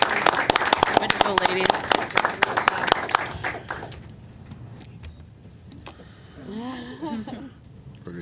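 Applause at a Board of Education meeting in Enfield, Connecticut: a dense round of clapping that fades after a few seconds, with people talking over the end of it.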